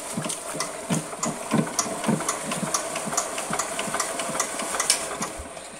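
A generator engine runs at a steady idle, giving a rhythmic, pulsing chug with hiss on top. It is close and moderately loud, with no talking.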